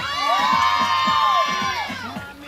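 A loud, close crowd cheers, whoops and shouts together for a singer at an outdoor fiesta show during the Panasonic picnic in 2014, with sustained high cries layered over the noise.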